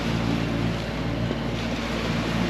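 Sailboat pounding upwind through lumpy Atlantic swell off Antigua, a steady loud rush of wind and water with low thuds as the hull bounces, continuous and close.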